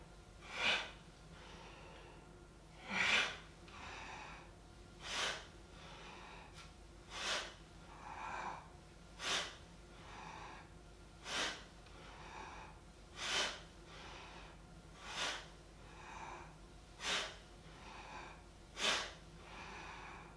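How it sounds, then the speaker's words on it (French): Deep yoga breathing, in and out, with slow rhythmic breaths about every two seconds. The airy inhales and exhales are close and clear, with no speech over them. "De grandes inspires, expire."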